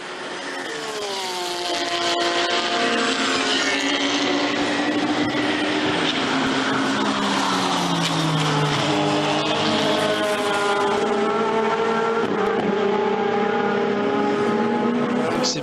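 GT3 race cars roar around the Zandvoort circuit during a British GT round, engines rising and falling in pitch as they pass close by, loud and continuous with overlapping cars.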